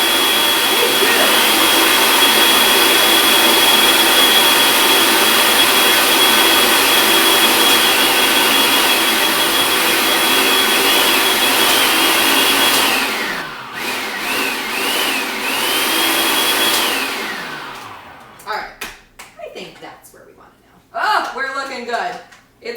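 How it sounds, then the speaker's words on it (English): A kitchen blender whirs steadily and loud while blending ingredients for cheesy chicken tacos, its motor pitch dipping briefly near the end before it stops and people start talking. "we're going to blend it just a tiny bit more"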